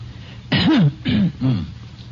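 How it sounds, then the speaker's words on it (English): Three short harsh bursts in a row, a voice coughing or clearing its throat, close and fairly loud against a low steady hum. "Now, let me hear you cough."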